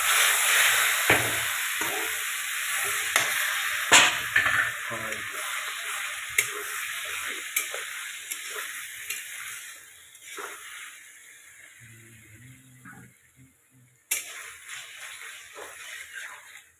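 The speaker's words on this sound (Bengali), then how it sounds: "আলু এবং পটল মশলা দিয়ে কষা চলছে।" Potatoes and pointed gourd frying with spices in a pan, stirred now and then, give a steady close hiss and sizzle with scattered scraping knocks and a brief dip in loudness before the sizzle surges back.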